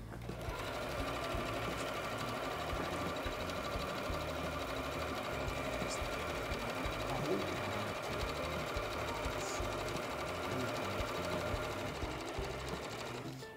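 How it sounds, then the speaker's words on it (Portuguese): A sewing machine set to straight stitch runs a continuous seam around a piece of fabric, a steady, even motor hum that stays close and uninterrupted for the whole stretch. "Eu vou passar uma costura reta em toda a volta, deixando uma abertura de 6 a 10 centímetros aproximadamente para poder desvirar a peça"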